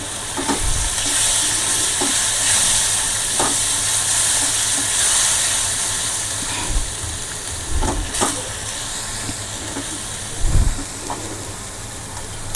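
Ground tomato paste sizzles in a hot pan for a mixed vegetable curry, a steady, loud, hissing fry throughout with occasional soft knocks of a utensil, no talk.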